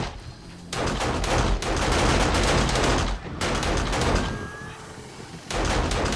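Automated turrets in 7 Days to Die fire at zombies in dense, rapid bursts, loud and close, broken by short pauses between volleys.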